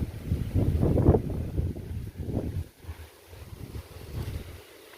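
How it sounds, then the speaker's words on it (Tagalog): Strong outdoor wind roars in uneven gusts against the microphone, swelling loud then easing, with no talk over it. "Ay, lakas ng hangin."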